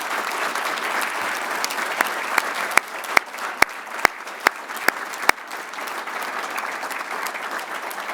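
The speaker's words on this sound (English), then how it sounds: "Let's give them another round of applause." An audience at the 2023 Alberta Order of Excellence investiture ceremony applauds the new members, with a steady, full round of clapping throughout and a few sharp, close individual claps standing out in the middle.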